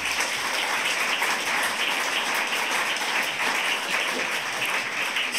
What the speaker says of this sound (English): So you can give Sam some applause